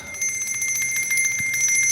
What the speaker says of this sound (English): Shakes are a lot of fun, especially when you have the little bells.